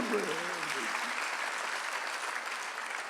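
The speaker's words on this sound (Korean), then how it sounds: "박수로 영광을 돌리세요" Church congregation at a Sunday worship service applauding to give glory, a short steady burst of many hands clapping after a brief spoken word at the start.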